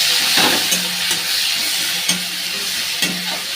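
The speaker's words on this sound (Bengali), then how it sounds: "ভালো করে একটু লাল লাল করে ভেজে নিতে হবে" Chopped onions frying in hot oil with bay leaf and whole garam masala, a steady close sizzle broken by a few soft stirring scrapes of the spoon in the pan.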